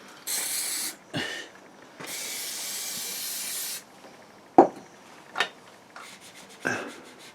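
Several bursts of hissing spray, some long and steady, others short squirts, with a few clicks and knocks between them, close and fairly loud.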